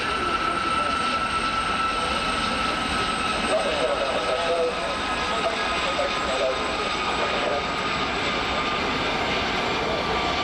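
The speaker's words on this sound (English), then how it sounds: "Helicopter coming from the left is going to go in between the aircraft coming from the right." Gazelle helicopters performing a formation display manoeuvre at an air show, one crossing between aircraft coming from the other side, with a steady loud rotor and engine roar throughout and voices faintly mixed in.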